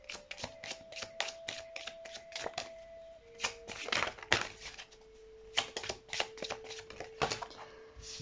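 Tarot cards being shuffled and drawn from a deck, a quick run of crisp riffling flicks and snaps that pause briefly midway and then resume, close and fairly quiet with no talking.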